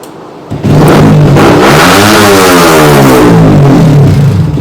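Yamaha R15 v3 VVA motorcycle with a stock ECU firing up, then its engine revving hard and loud and close, rising and falling in pitch as the throttle is blipped.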